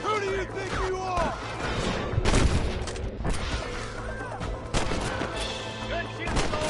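Gunshots in Red Dead Redemption, a rapid burst of several loud sharp shots and ricochets amid a chaotic firefight, with shouting voices and whistling sounds mixed in.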